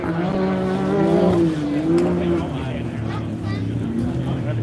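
Race car engine drones past on a circuit at the Loveday 400, car number 621 battling another car, a steady loud roar with shifting pitch that swells and eases, under continuous commentary.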